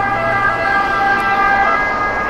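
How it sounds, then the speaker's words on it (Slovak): Ambulance sirens wail steadily on a street in Rome near the Palatine Bridge, a loud sustained two-tone whine over traffic noise. "zase tie sanitky tu hučia"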